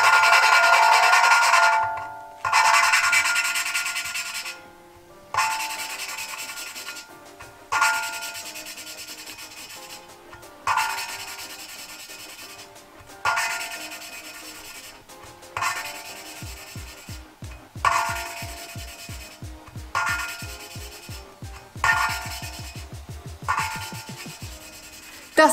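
Rhythmic gritty rubbing of engine valves being lapped into a cylinder head with grinding paste, in repeated strokes, each burst separated by short pauses, with a faint low tapping pulse emerging in the later strokes.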